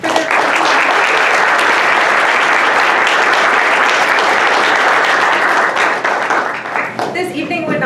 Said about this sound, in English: join me in a round of applause thanking them